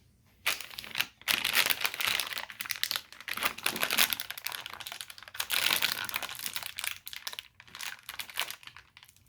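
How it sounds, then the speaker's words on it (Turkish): Crinkly plastic rustling close up, steady bursts of crackling with brief pauses, as the plastic bag holding a Seagate Barracuda 2 TB hard disk is handled and opened. "Böyle poşette geliyor. Evet açabiliriz."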